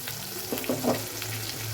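Shallot paste and chopped onion fry in oil for a steady close sizzle, with a few soft stirring scrapes of the spoon in the pan.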